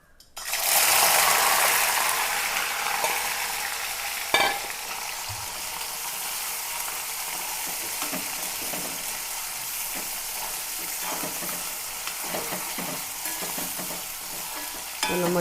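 Sliced ginger fries in hot oil in a pan, a steady crackling sizzle with scraping stirs and clinks of a utensil against the pan, close and without speech.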